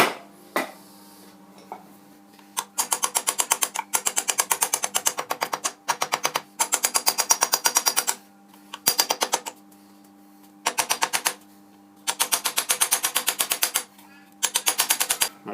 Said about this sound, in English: Okay, so we'll tap around the centre. And around the outside.